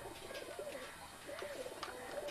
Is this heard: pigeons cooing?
yes